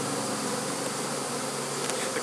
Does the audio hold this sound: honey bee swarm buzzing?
yes